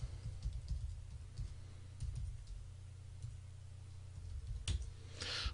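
Keys on a computer keyboard are tapped in soft, irregular bursts, faint and close, with a few sharper clicks toward the end.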